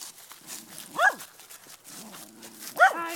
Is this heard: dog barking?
yes